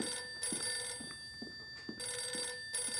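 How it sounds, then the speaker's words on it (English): An office telephone rings in two bright, bell-like bursts separated by a gap, clear and close, in a children's storytime series. "Excuse me, I better get that phone."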